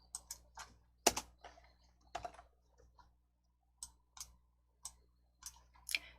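Computer mouse clicks sound close and crisp in a quiet room during a Hangul word-processor lesson, with a dozen or so sharp, irregular clicks coming singly and in small clusters over a faint steady hum.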